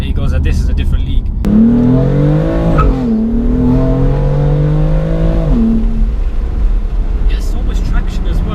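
BMW F80 M3 engine revving hard from inside the car, a loud rising exhaust drone that climbs in steps, then drops as the throttle lifts with a bark, under talk from occupants.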